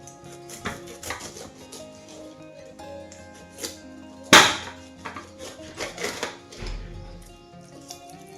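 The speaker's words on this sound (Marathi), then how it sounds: "आता हा पुढचा भाग काढून घेते चाकूच्या साह्याने" A kitchen knife slicing the tough outer skin off a fresh pineapple, giving a series of close, crisp cutting clicks and scrapes with one sharp louder snap near the middle, under quiet background hum.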